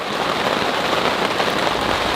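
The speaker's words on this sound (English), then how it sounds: "It's still pouring rain." Heavy rain pours steadily outside a greenhouse in July, a dense, even hiss of drops drumming on the surfaces, continuous and loud with no voices.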